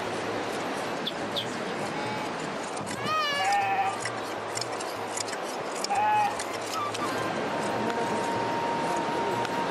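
Sheep bleating in a Gaddi herding setting in the Himalayas during hand shearing of wool, a few wavering bleats midway over steady ambient noise and outdoor clatter, with birds and other animals faintly in the background.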